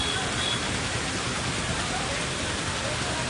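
Steady rain pours down in Dwarka, a dense, even hiss filling the scene without breaks, close and continuous.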